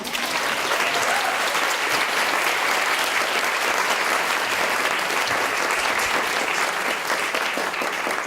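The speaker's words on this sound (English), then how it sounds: "So, can we just have one quick round of applause for our first 4 tellers?" A full room at a women's storytelling event applauds the first four tellers: loud, dense, unbroken clapping from a large audience that stays level for the whole stretch.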